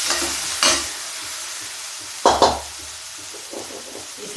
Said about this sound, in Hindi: गैस को स्लो कर देते हैं। अब इसको थोड़ा सा फ्राई कर लेते हैं।